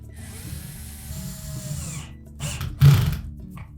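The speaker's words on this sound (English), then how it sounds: "And then we'll tighten up those two clamps." A power tool whirs in short bursts while tightening the pump clamps inside a GE dishwasher, close and moderately loud, with a brief stop and a final stronger burst near the end.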